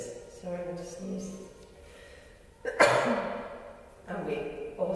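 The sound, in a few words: sneeze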